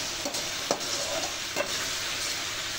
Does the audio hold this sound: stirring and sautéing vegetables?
yes